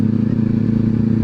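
A 400cc motorcycle fitted with an SC Project exhaust idles with a deep, steady, throbbing rumble, loud and close, holding an even pulse throughout the short burst with no talking.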